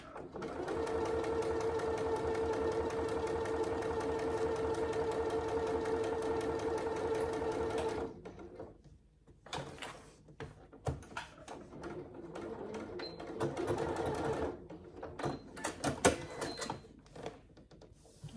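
Sewing machine stitching a rectangle of fabric for a saddle bag, a steady, even whir for several seconds, then stopping, followed by scattered clicks and handling noises.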